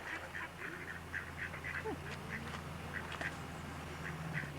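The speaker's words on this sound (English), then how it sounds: "And some ducks taking advantage of the raceway for the water." Ducks quack in short repeated calls a little way off, over a steady low hum of water running along a watermill raceway.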